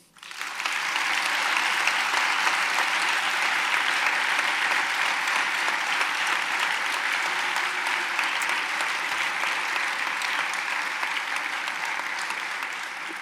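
A large audience at a science talk on the origin of life applauds loudly and steadily after being asked to thank the speakers and collaborators, a dense, sustained wash of clapping that holds for over twelve seconds before tapering slightly.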